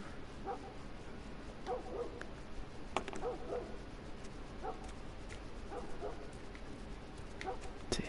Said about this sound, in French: On entend les chiens, ils arrêtent pas de gueuler là.